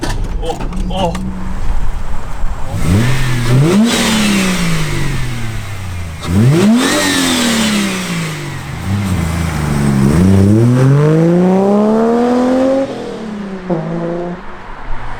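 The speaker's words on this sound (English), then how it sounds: "we have the AU Falcon on the road now and we're gonna get a sound test" A Ford AU Falcon with a pod air filter revs repeatedly through the gears, rising and dropping in pitch as it accelerates nearby, loud with road noise around it.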